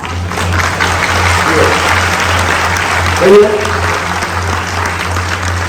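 An audience at an agent-training talk claps continuously and loudly, with a low steady hum beneath and a brief voice breaking through partway.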